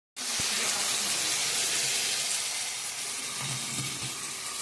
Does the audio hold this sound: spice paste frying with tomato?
yes